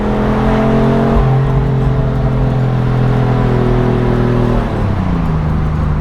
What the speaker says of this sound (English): The engine is delightful,